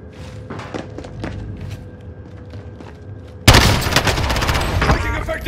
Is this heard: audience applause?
no